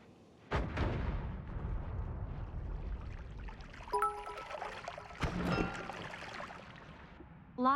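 A bomb detonates in a video game with one sharp loud blast, followed by a sustained rumbling wash of debris and crackle, a second burst partway through and chiming effects near the end.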